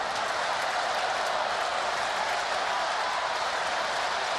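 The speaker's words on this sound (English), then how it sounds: "Home crowd something to make a little noise about for the first time tonight." Home crowd of Baltimore Orioles fans at a night baseball game against the New York Yankees, a steady broad roar of cheering and clapping filling the stadium without a break.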